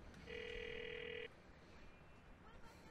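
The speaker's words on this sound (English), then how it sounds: "this is our opportunity actually to phone Roman for car service" A telephone rings once in the Grand Theft Auto IV video game, a bright electronic two-tone ring lasting about a second over low background hum, then stopping.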